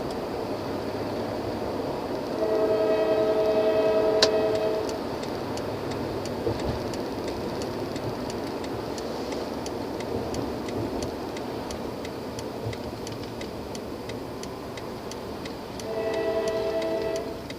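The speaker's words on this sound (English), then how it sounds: "there's the train over there." A train passes by, rumbling and clattering steadily, with two loud horn blasts: one early on and another near the end.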